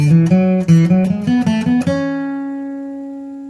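Flatpicked acoustic guitar playing a measure of the bluegrass tune Monroe's Hornpipe: a quick run of crisp picked single notes, then a final note left to ring and slowly decay, heard alone and close.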